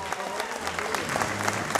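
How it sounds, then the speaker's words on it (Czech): Applause from a crowd in a ballroom at a high school graduation ball in Skuteč, a steady dense patter of many hands clapping that fills the room without a break. "Ještě jednou potlesk pro vás"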